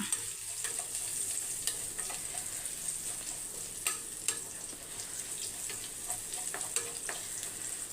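Garlic and dried chillies frying in hot sesame oil, a steady quiet sizzle with scattered crackles and pops, heard up close with no talking.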